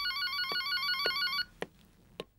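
A mobile phone rings with a repeating electronic melody for over a second, then cuts off, followed by a couple of soft clicks in a quiet room.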